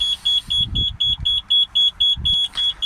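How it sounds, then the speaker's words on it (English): A diagnostic scanner connected to a Citroen Dispatch 2.0 van emits rapid, evenly spaced electronic beeps in a steady high-pitched pattern, with low rumbling noise underneath. "I know the beeping is going to really annoy some of the viewers here"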